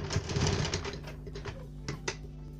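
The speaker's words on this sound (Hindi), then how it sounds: "हम इसे स्टिच कर लेते हैं।" Sewing machine running a short run of stitches along the shoulder seam of a cowl neck top, a close rapid mechanical whir that is louder at first, then softer clicks toward the end.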